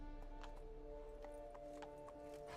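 Roach the horse gallops in the fantasy game Witcher 3, steady clip-clop hoofbeats at a quick rhythm, fairly faint over a sustained tonal music bed.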